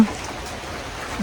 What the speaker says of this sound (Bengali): আর বাইরে বৃষ্টি হচ্ছে